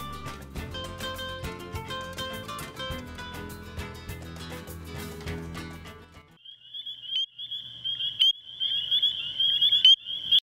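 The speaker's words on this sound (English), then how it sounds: "the spring peepers' chorus is a familiar sound to us in late winter through early spring" Music plays for several seconds, then stops, and a chorus of high, shrill peeping spring peeper frog calls takes over, repeating rapidly and growing louder.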